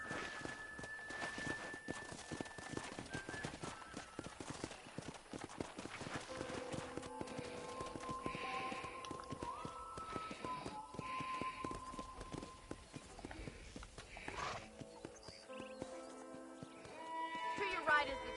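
Horse hooves clip-clop at a walking pace in Red Dead Redemption on a ranch, a steady close rhythm of hoofbeats running under a voice and light background music.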